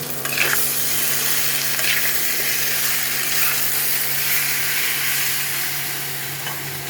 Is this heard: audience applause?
no